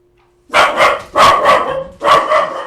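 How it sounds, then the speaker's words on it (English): A dog barks loudly and close by in three bursts, each a quick double or triple bark, after a brief quiet start. "Sorry guys, my dog just freaked out."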